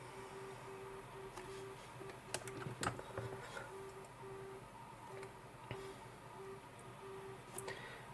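Soft, scattered keyboard taps are heard as a Wi-Fi password is typed during setup of a Roborock S8+ robot vacuum, with a faint intermittent beeping tone repeating in the quiet background and no talking.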